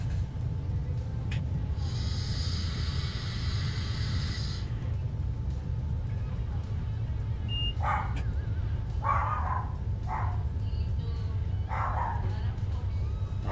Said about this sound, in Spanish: Ay, ese perro.